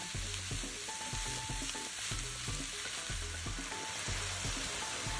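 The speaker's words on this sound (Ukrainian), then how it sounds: "І знову все смажу, доки гриби не випустять всю зайву вологу." Steady sizzling of mushrooms frying in a pan, with repeated soft scraping strokes of a utensil stirring at an even rhythm.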